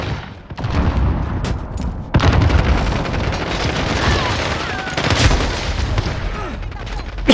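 Submachine gun fire in the video game Warzone rattles in dense automatic bursts with booming reports, loud and continuous over game ambience.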